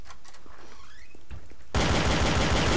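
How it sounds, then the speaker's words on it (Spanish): A Glock fires in Garry's Mod Trouble in Terrorist Town: after a quiet stretch with faint game noises, a sudden, loud, dense burst of rapid gunfire fills the last second. "Con la Glock te está pegando"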